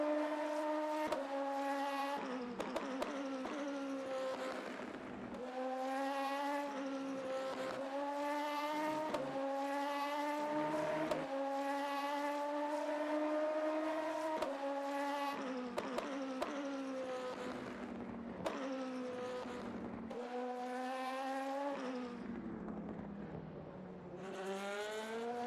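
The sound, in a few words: LMP2 race car engine accelerating in video game Le Mans Ultimate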